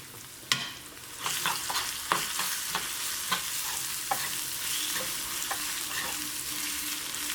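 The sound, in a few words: mixing grated carrot into hot oil tempering in a pan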